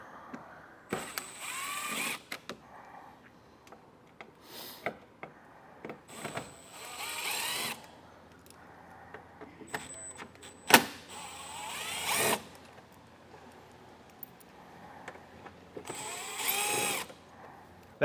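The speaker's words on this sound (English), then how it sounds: "we're just going to take a T15 Torx bit and start getting those out" A power driver with a T15 Torx bit backs screws out of the front fascia of a 2025 Buick Encore GX, giving several short whirring bursts separated by pauses and light handling clicks, close by with no talk.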